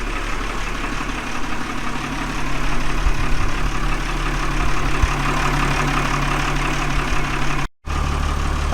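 A trawler's diesel engine idles steadily with a deep, loud, continuous rumble and hum, heard up close in the engine room.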